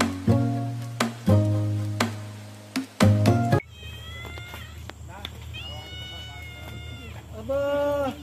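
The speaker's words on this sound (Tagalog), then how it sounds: "May pusa din oh" A cat on Talim Island during a fishing trip meows repeatedly, with several loud, drawn-out cries close by, and people talk between and over the calls.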